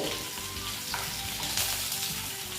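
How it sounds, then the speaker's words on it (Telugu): Ingredients frying in oil in a pan for coconut fried rice, a dense, continuous close sizzle with light stirring, with no talking. "ఇవి కొంచెం ఆయిల్ ఫ్రై అయితే చాలా బాగుంటాయండి"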